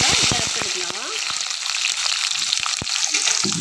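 Small shallot-type onions fry and crackle in a hot pan, a dense near sizzle with spitting pops and stirring knocks throughout, no speech.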